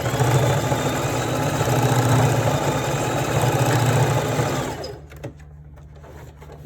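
Sewing machine running a straight stitch through thick folded fabric, a steady close mechanical whir with a rhythmic needle buzz for several seconds before it stops, leaving near silence and a few small clicks.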